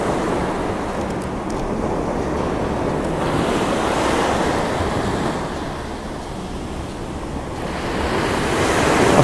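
Ocean waves break on the shore in a continuous roar of surf, swelling and easing, with wind rushing across the microphone.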